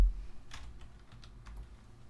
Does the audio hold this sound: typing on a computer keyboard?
yes